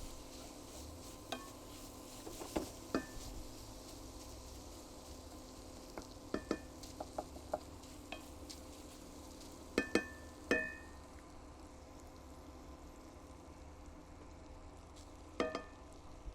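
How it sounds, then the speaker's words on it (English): Sausage crumble fries in melted butter with a low, steady background sizzle, broken by occasional sharp clicks and utensil taps against the pan. "Just melt your butter in, make sure you coat all the sausage crumble."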